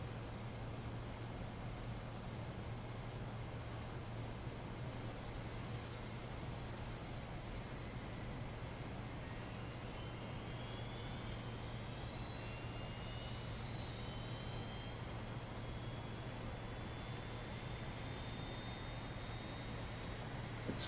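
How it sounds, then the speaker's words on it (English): Aircraft engine 2 spooling up during start in the X-Plane flight simulator: a steady, loud broadband turbine roar with a faint rising whine climbing in pitch midway, continuous throughout with no talk. "Starting engine 2."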